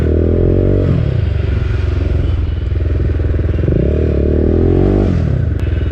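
A BMW G310R motorcycle fitted with an Akrapovic exhaust rides along, its single-cylinder engine loud and close with a steady throbbing drone, rising and falling as the throttle changes, with wind noise throughout.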